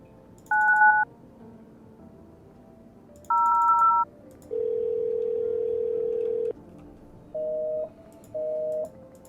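Telephone keypad tones from the video game No, I'm Not Human: paired beeps, a long steady tone, then two short tones in sequence, clear and isolated.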